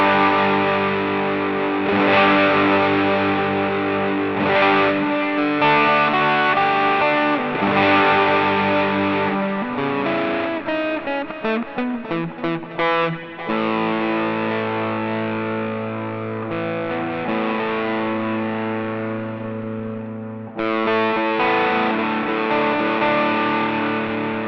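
Electric guitar run through a Mooer GE150 multi-effects unit on a distortion setting, with the guitar's volume knob turned down; driven chords and muted rhythmic chugs play steadily and close, with no speech.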